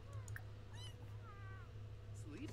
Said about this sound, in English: Come offer friendship to the cat.